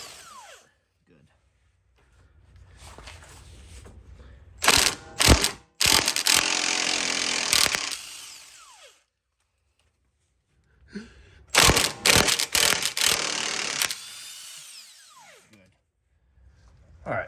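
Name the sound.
ratchet loosening ball joint nuts on Honda CR-V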